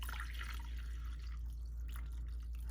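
Lukewarm water poured over ranunculus corms in a container, a faint, steady liquid wash with soft dripping, continuous and low in level.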